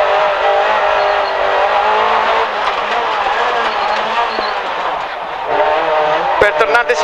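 A Renault Clio A/7 rally car runs flat out on a stage at the 2014 Rally Coppa Città di Lucca, its loud, close in-car engine note rising and falling through gear changes, with a co-driver's voice calling pace notes over it.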